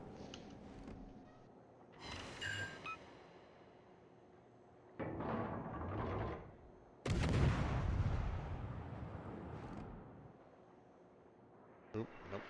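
Warship main guns fire in World of Warships during a naval battle, giving three heavy booming salvos that each roll out into a long rumbling tail, with a voice talking between them.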